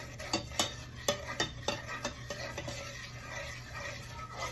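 A spoon stirs milk into chocolate icing for a Texas sheet cake in a home kitchen, giving a string of soft, irregular scraping and clinking strokes against the bowl, close and moderately quiet, with a low steady hum underneath.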